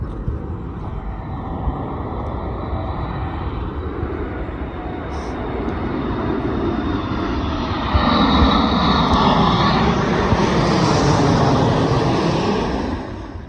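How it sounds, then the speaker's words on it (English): A fixed-wing airplane drones overhead in Alaska, its engine rumble rising and swelling louder through the second half before easing slightly at the end, heard outdoors as a broad continuous roar. "I like that she watches the airplanes."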